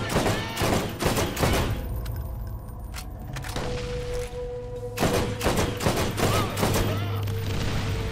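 Rapid gunfire in the Borderlands DLC The Secret Armory of General Knoxx, dense bursts of automatic shots and booming impacts in clusters with a short lull in the middle, loud and close.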